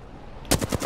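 R-301 rifle fire in Apex Legends, a quick automatic burst of four or five sharp cracks starting abruptly after a quiet moment, close and loud.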